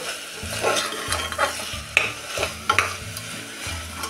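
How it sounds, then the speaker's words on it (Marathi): Chopped ginger, garlic and coriander with stems sautéing in a pan for millet khichdi, with repeated scraping stirs over a low sizzle and a few sharp metal clinks, close and without speech. "त्यामध्ये टाकूया हे आलं लसूण आणि ह्याबरोबर आपण ही थोडी 1 चमचाभर देठासह बारीक चिरलेली कोथिंबीर परतून घेऊया."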